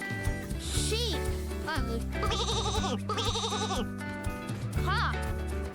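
A sheep bleats in two long, wavering cries in the middle, loud and close over a bouncy children's music track, with a short spoken voice before and after.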